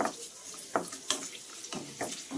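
Dry fruits fry in a pan for mango rava laddu, a quiet sizzle with several light scraping strokes of a spoon against the pan.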